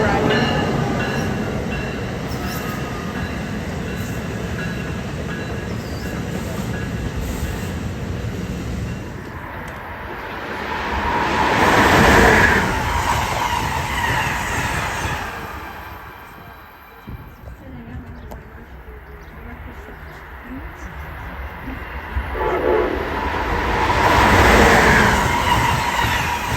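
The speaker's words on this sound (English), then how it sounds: "This is the southbound train to Trenton arriving." A southbound train to Trenton arriving at Princeton Junction station, heard outdoors as a rumbling roar that swells past twice with rail clatter and wheel squeal, fading between passes.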